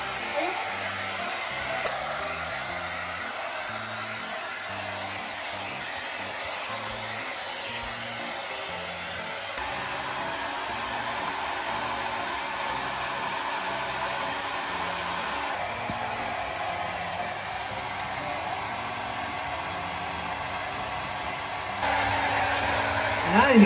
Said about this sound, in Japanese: おいいね、櫛付きドライヤー。